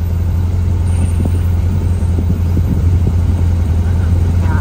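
Car driving along roads in Los Corales, a steady low engine drone with road rumble and occasional bumps, close and continuous from inside the vehicle.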